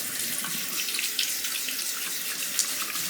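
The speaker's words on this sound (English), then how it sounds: "Just gonna rinse out the holder really quick." Tap water runs steadily from a faucet while a sharpening stone holder is rinsed out, a continuous close splashing hiss with a couple of brief clinks and no talking.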